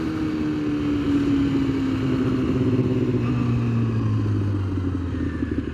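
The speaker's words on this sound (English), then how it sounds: "I have not seen that car before." An unfamiliar car passes close by, its engine drone falling steadily in pitch as it moves away, loud and continuous with no voices.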